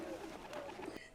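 Pigeons or doves coo in a busy ancient-style market setting, soft repeated low calls blending with a steady murmur of crowd noise and faint voices in the background.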